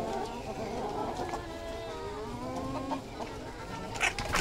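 Live chickens for sale at a market cluck and squawk steadily at close range, with several birds calling over one another and people talking throughout.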